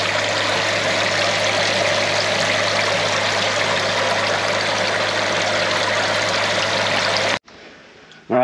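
Water splashes steadily into a DIY cooler bait tank livewell, a loud constant rushing that cuts off abruptly near the end.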